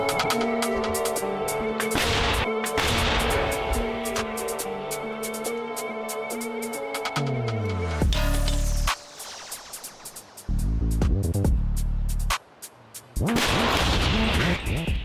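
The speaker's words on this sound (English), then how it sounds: "Immediately after the shot has been fired, the soldiers rush to mask the howitzer." Howitzer artillery firing in a wartime field position, heard as loud broadband blasts and booming reports spread across the clip, with music-like tonal layers running underneath.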